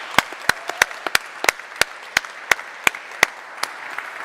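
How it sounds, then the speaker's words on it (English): A small audience at a technology studio awards session claps in sparse, distinct individual hand claps, a few dozen sharp separate strikes spread over several seconds, fairly close and without talk. "big round of applause for the Hot Topics team"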